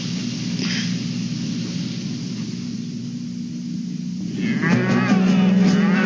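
Cattle give a loud, close moo near the end of the clip over a constant hiss and low hum. A fainter, higher call comes earlier.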